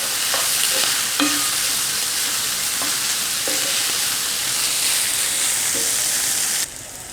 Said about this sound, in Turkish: Kıymalar iyice kavruldu.